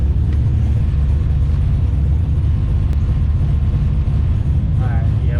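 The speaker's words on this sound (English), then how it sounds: "It just doesn't want to idle any lower." An LS-swapped Nissan 240SX engine idles with a steady, loud low rumble throughout, and a faint whine rises briefly near the end.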